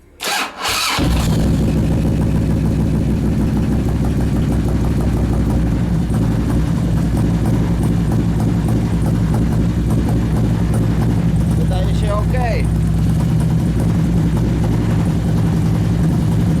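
A 2002 Harley-Davidson Road King motorcycle engine idles with a steady, loud low-pitched rumble after a brief start at the beginning, running continuously with a faint voice heard briefly.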